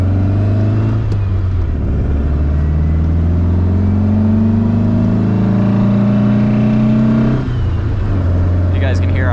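A 1965 Volkswagen Beetle engine hums and rumbles steadily up close, with shifts in pitch as it changes gear while driving along a road.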